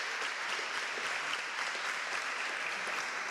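An audience at a scholarship award ceremony gives a big round of applause, a dense, even roar of many hands clapping together that holds steady throughout, with no voices over it.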